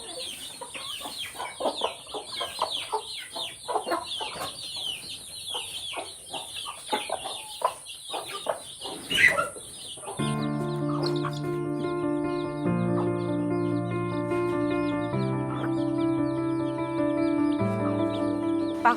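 Backyard hens cluck in a steady, busy stream for about ten seconds, fairly close and loud, before the sound gives way to sustained musical tones with no clucking.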